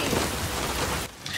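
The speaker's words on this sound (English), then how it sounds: "Rain is rain and everything." Steady heavy rain pours through a romantic film scene, dense and close, then drops away abruptly near the end into a quieter hiss.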